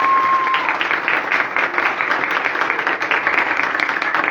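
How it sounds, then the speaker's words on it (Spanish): A church congregation applauds loudly in dense, sustained clapping, with a brief steady electronic tone at the very start and no clear voices over the crowd. "Aplaude, bendiga, grite, chifle, haga algo en esta noche para la gloria del Señor."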